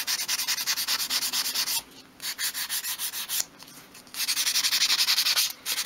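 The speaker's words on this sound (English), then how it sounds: "now I'm going to use a medium grade sandpaper, and this is 180 grade, just to sand and get rid of all those bits that are hanging off" Wood being sanded by hand with 180 grade medium sandpaper for a dolls house kitchen, close rhythmic rasping strokes in quick bursts separated by brief pauses.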